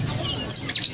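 Small birds chirp and tweet at a Bandung bird market, short bright calls scattered over a steady murmur of crowd noise, with a few louder chirps near the end of the second.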